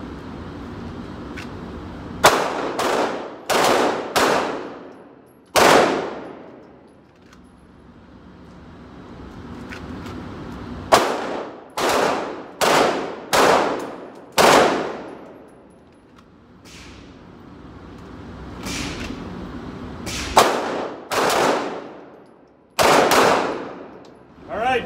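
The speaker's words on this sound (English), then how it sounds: "Five shots with the strong hand only." Handgun shots fired one-handed in a shooting drill, loud sharp reports in quick strings of several shots with short pauses between volleys, ringing outdoors.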